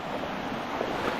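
Water rushes through a waterway just cleared of a blocking rock, a steady, broad roar like surf, with wind buffeting the microphone, continuous and without speech.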